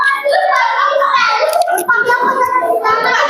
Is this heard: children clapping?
yes